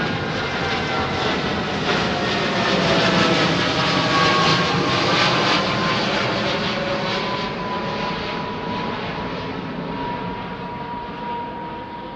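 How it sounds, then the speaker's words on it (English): A Boeing 787 Dreamliner operated by Air India departs overhead at London Heathrow, a loud broadband jet roar that swells and then slowly fades over about twelve seconds, with steady engine whine and no voices. "Another Air India Dreamliner going out."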